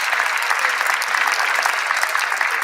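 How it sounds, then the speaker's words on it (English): Loud, dense round of applause from the audience at a Southern University Founders' Day convocation, continuous clapping throughout with no voices on top. "Let's give our wonderful speaker a round of applause."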